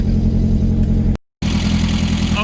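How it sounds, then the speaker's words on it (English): A 1974 VW Beetle's air-cooled engine idles fast with a steady, close, throbbing drone, cut by a brief silent gap before the same rapid idle resumes. "let's see why it's idling so fast as well"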